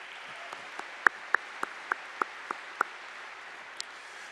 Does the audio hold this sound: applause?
yes